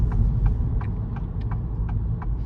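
The turn signal of a 2023 Acura Integra A-spec ticks in an even rhythm, about three clicks per second. The soft, crisp clicks play over a low rumble of cabin road noise while driving.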